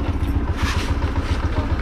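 A motorcycle idles on a center stand during remap monitoring, a steady close putter with regular low pulses throughout and no talk.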